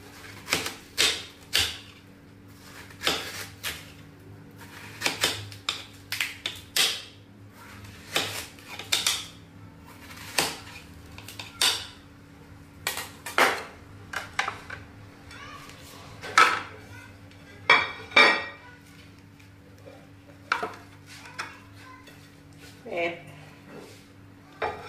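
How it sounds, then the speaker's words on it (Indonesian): A knife chops a watermelon into pieces on a board, producing a long series of sharp, irregular knocks and taps at close range, with voices talking in between. "Potong lagi guys semangkanya."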